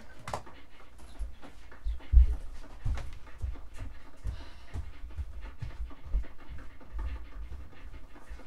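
Cartoon dog panting in the Wii Fit video game, a steady quick breathy rhythm running through the whole stretch over soft game music and footstep-like thumps, with no talk.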